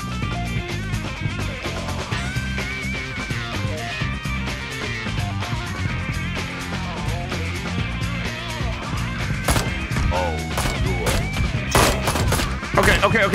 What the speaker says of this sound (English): It's a shooting sequence.